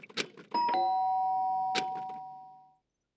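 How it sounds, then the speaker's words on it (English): A doorbell in the Danganronpa video game rings with a bright two-tone chime whose tones ring on and fade out over about two seconds, following a few brief soft sounds. "The sharp sound of the doorbell pierced my sleepy haze and pulled me back to the real world."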